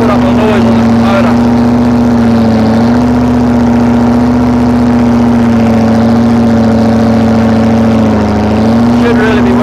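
Ferguson tractor fitted with a V8 engine running steadily at work, a loud, close, continuous droning hum with a constant pitch that barely changes throughout.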